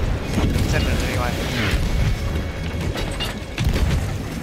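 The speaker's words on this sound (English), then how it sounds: "Oh, that's a blunder bomb." Blunderbomb explosions in the pirate video game Sea of Thieves, a dense rumbling boom with splashy bursts, loud and close, layered over continuous ship and water noise.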